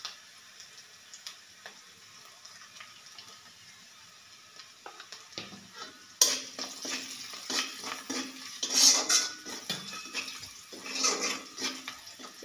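Onions and green chillies frying in a pan with salt and turmeric added, quiet at first, then a louder crackling sizzle broken by scraping, tapping stirring strokes.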